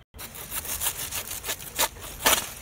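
Rough, rhythmic cutting strokes rasp close by as a blade saws through the base of a banana bunch, with several louder pulls spaced unevenly and no talking.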